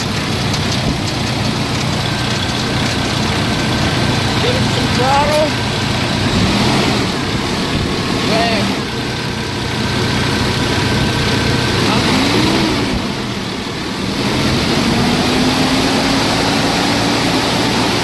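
A Paccar MX13 truck engine with a fuel check valve fault runs at a steady idle, a continuous low rumble heard close up with speech over it.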